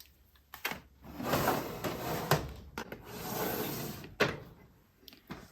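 A makeup drawer sliding open and shut, with repeated wooden scraping and rubbing strokes broken by sharp knocks and thumps, close and fairly loud with no talking.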